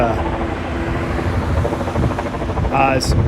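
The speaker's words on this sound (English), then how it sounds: "if you guys can hear that helicopter. It's incredibly loud." A loud helicopter passes overhead in downtown Bellevue, Washington, its rotor drone continuous and close throughout.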